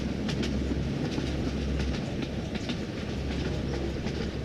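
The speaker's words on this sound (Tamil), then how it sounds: "வசந்த் ஏறின ட்ரெயின் நேராக காரைக்குடியை நோக்கி மிக விரைவாக வந்துட்டு இருக்குங்க" A train runs fast on its rails toward Karaikudi at night, heard as a steady loud rumble with rhythmic clickety-clack wheel beats throughout, alone and without voices.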